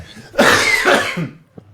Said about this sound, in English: it's me trying to hold in a cough this entire podcast